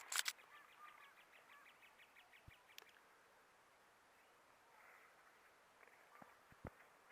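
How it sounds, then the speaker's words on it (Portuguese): Morning birdsong out in nature, with a burst of repeated bird calls at the start, then quieter scattered chirps and a few sharp clicks over soft background ambience. "Os pássaros."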